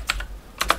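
Two pairs of quick keystrokes on a computer keyboard, soft and close, with no talking.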